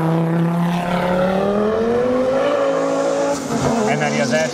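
An Audi Sport Quattro A2 rally car drives hard, its loud engine note climbing steadily in pitch before easing back and picking up again, close and aggressive, with a brief tire squeal.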